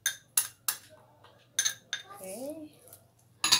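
A utensil clinks against a bowl while cucumber salad with lemon juice, sugar and black pepper dressing is mixed, giving several sharp separate knocks with short pauses, and a voice speaks briefly in the middle.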